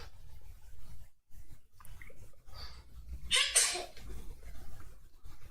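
A single sharp sneeze bursts out midway between quiet breathing and soft rustling, close and brief.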